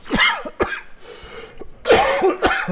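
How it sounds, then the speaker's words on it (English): Several harsh coughs from one person close by, in irregular bursts with short pauses between them. "Sorry, I keep coughing."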